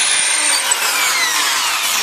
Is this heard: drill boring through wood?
yes